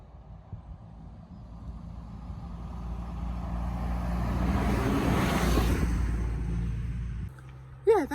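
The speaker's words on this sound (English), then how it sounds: "Yeah, that was the bus." A bus on a rural road in Portugal approaches from a distance, its diesel rumble swelling to a loud close pass and then fading away, with a brief squeaky chirp at the very end.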